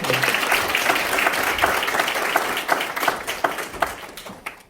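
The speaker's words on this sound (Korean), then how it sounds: "우리 반주사님한테도 감사의 박수." Church congregation applauding the accompanist after a worship song, a dense round of clapping from many hands that stays full at first, then thins and fades toward the end, with no talk over it.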